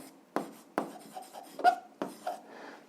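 A pen writes out an algebra solution in a series of short, scratchy strokes, each a quick dry rasp with brief gaps between, close and quiet.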